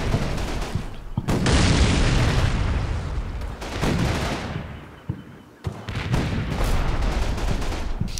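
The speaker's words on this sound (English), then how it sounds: "This tank cooks off." Tank cooking off in the Combat Mission wargame, a heavy burst of explosions and rapid popping detonations with booming blasts that surge, dip briefly, then rumble and crackle again, loud and close.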